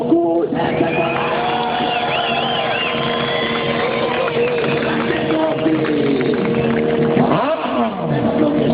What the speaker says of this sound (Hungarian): Ó, tapsoljuk meg Mókuszt!